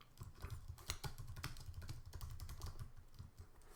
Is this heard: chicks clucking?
no